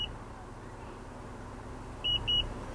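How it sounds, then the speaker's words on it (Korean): Two short electronic beeps sound in quick succession near the end as a Honda Odyssey Elite's power tailgate saves its height setting, with a brief beep at the very start, over a low steady hum. "삐삐 하면서 이 높이에 지금 설정이 저장이 된 겁니다"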